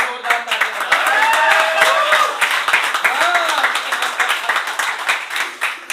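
Applause and clapping for a poet at a Hindi poetry gathering, loud and close, rolling through the whole stretch with voices talking and calling out over the claps.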